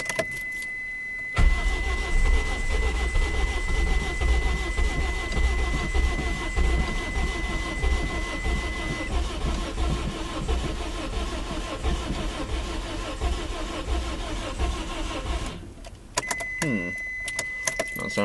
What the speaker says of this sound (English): Now I'm gonna see if it'll crank up.